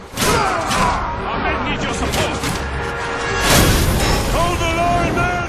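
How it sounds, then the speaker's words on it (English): A video game volley of gunfire, heavy booming shots and crashes layered over busy game sound, with voices talking through it and a louder burst near the end. "Fire volley!"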